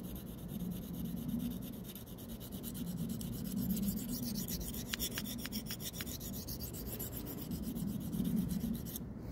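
SPY27 Manix knife sharpened in-hand on a Venev resin bonded stone gives a steady, soft rasping rub that continues for the full length, moderately close, with no talk.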